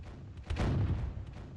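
Cannon fire aimed at a pirate ship in a boat-battle video game: a low booming burst near the middle of the clip rumbles on for about a second, with no one talking.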